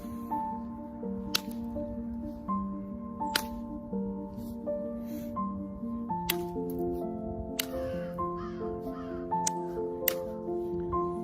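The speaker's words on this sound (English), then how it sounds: "It's crows, man." Crows caw now and then in a quiet wilderness forest near a stream, calls carrying from a distance over soft ambient hiss, punctuated by a few sharp close clicks and knocks.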